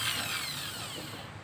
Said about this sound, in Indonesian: terus di lubang gunakan bor listrik ya, bor listrik seperti ini